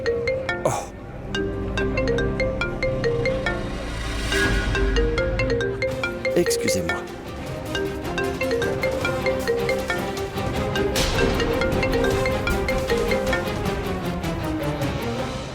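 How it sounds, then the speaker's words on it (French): A mobile phone rings indoors with a repeating melodic tone that persists throughout, while someone briefly speaks over it in French. "Est-ce que tu n'entends pas ton portable sonner?"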